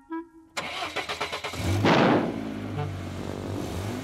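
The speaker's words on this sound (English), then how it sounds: "Let's have a nice loud rev." A cartoon truck's engine cranks with a quick series of chugging turns, then catches and roars into a loud rev that settles into a steady idle, with no talking.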